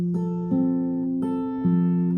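Fingerstyle guitar plays a few sustained chord tones with clear plucked changes roughly every half second to second, close and clean with no talking.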